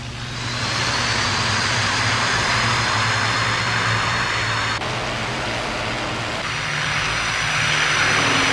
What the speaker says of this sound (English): The flight takes off to gather information.